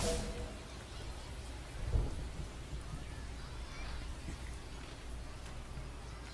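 Rain and thunder in the MLB The Show 25 baseball video game, a steady wash of rainfall with a soft thunder rumble near the two-second mark, continuous and fairly faint.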